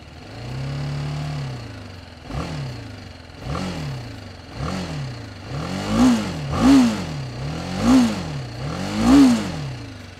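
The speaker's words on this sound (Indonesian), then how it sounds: "suara raungan mesinnya khas banget BMW, jadinya ada suara sangar-sangar gitu" A single-cylinder BMW G310GS motorcycle engine is revved repeatedly, each throttle blip rising and falling, growing louder and sharper toward the end, with no voices.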